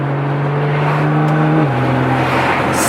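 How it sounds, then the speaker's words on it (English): A Nissan GT-R engine with aftermarket downpipes hums loudly at a steady pitch, then drops to a lower tone as the driver downshifts, with a droning exhaust close by. "A little downshift."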